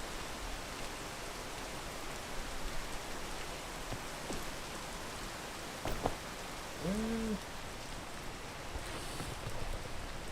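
Steady rain falls throughout a video game scene, a dense even hiss with faint patter, joined briefly by a short tonal blip near the end.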